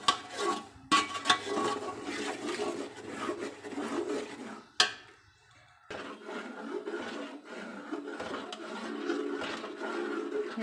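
Spoon stirring semolina halwa in a pan over the flame, a steady close scraping and rasping that pauses briefly midway, then resumes at a soft level, no talk.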